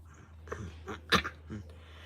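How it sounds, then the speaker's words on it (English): A small Maltese dog gives a few short, sharp yaps close by, one louder than the rest, against a low steady indoor hum. "She barks every time she hears someone"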